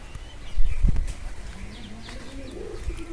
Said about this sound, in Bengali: আমার পোষা কবুতরগুলো